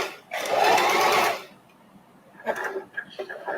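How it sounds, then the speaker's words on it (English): A sewing machine runs in a steady burst, stitching small fabric scrap pieces together, then stops; a voice talks briefly afterward amid light handling noises. "I'm going to match this here and sew through."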